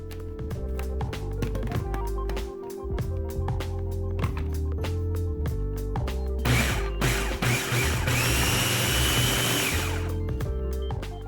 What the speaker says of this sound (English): And then now you're going to blend everything together.